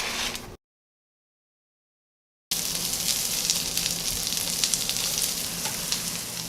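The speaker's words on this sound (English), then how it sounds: "I'm going to get my pan heated up again, and we are going to fry these up." Salmon patties and crab cakes fry in a hot pan with a steady, close sizzle and crackle, broken by a gap of silence near the start and then continuing unbroken.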